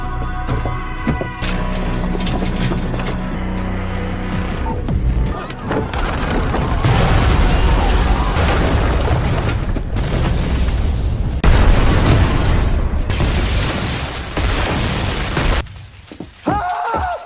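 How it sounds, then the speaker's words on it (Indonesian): Loud, sustained explosion of a temple and an iron room in a film scene, a dense roaring blast that rumbles on with crashing debris for many seconds before cutting off near the end. "tidak hanya kuil saja yang meledak, tetapi juga ruangan besi yang tepat berada di belakang Andu dan Jilong"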